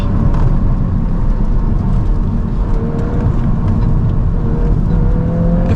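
A VW Golf R MK8 driving and accelerating on wet roads, its engine droning loud and steady with rising revs, tyres hissing over the damp surface, and no talk.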